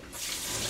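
Tap water runs steadily into a sink while sliced Cheongyang chili peppers are rinsed to remove seeds for a tuna kimchi stew, a close, continuous broadband hiss starting after a brief quiet moment.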